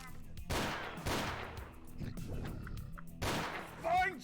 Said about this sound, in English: Let's shoot these.